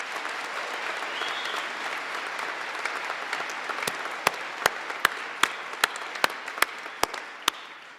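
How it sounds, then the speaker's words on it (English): Audience applause for a band at a winter commencement ceremony, a steady wash of many hands clapping with a few sharper, louder claps standing out toward the end. "Let's give them a round of applause."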